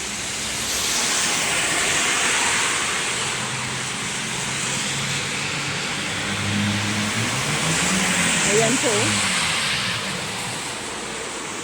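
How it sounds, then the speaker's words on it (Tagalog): Cars pass along a wet city road at night in the rain in Unaizah, Saudi Arabia, a steady broad hiss of tyres on water with a vehicle swelling past, and a brief spoken remark over it. "Yung mga sasakyan. Ganito po ang Saudi paggabi. Kasama ng ulan."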